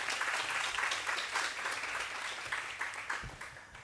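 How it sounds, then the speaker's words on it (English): An audience at an occupational therapy research day gives a round of applause: a moderately faint, continuous patter of many hands that stays even for a few seconds. "let's give them another round of applause"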